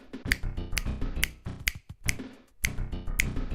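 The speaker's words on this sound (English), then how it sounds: "You snap your fingers, at least?" Finger snapping, seven sharp close snaps in a loose uneven rhythm, each a crisp dry click standing clearly alone.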